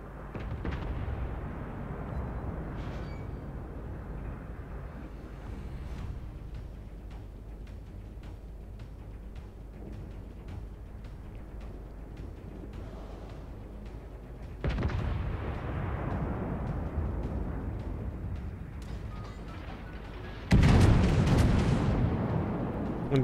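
Battleship shells fire and explode in World of Warships aboard the Dunkerque, a rumbling stream of distant booms and blasts under low background noise, with a heavier salvo around the middle and a sudden loud blast near the end.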